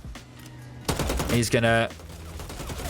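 Gunfire in the Bloodhunt battle royale game: a burst of rapid shots with a loud, dense cluster midway, followed by a few more spaced shots, with a voice talking briefly over it.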